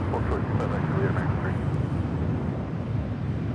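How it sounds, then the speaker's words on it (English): An American Airlines A321 jet takes off at LAX, a steady broadband engine roar that stays even and fairly loud throughout, heard from a distance. "This is American Airlines Flight 32 taking off to JFK on the A321."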